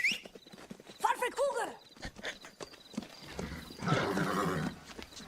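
Horse neighing and hooves clip-clopping in a played film scene, with whinnies early and a busy burst of clopping and commotion later, mixed with voices.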